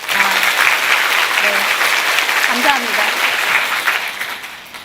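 An audience at a Korean education seminar claps together in a dense, sustained round of applause, fairly close, with a brief spoken thank-you and a few voices mixed in before it tapers off.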